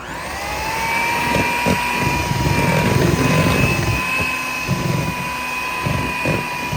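Eggs beaten one at a time in a bowl for a black sesame banana pie, likely with an electric mixer: a steady whirring drone with a high whine runs throughout, loud and close, with no talking.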